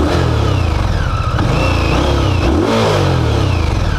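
An Indian Scout 1200 liquid-cooled motorcycle engine revs up repeatedly, loud and close, its pitch climbing and falling in sharp bursts.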